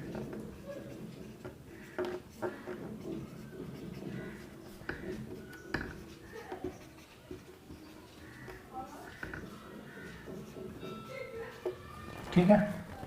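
Pen writing on paper during a maths lesson: soft, irregular scratching strokes close by, faint and patchy, with a few light knocks and a voice speaking near the end.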